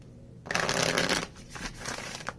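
A loud riffling shuffle of tarot cards lasting about a second, followed by softer shuffling and card handling, close by.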